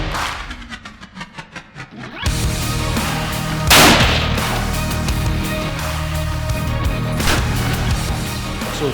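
A rifle shot loaded with 44 grains of Reloader 16 powder: one loud, sharp blast rings out and leaves a long, dense roar and rumble of echo and noise behind it, with no talk.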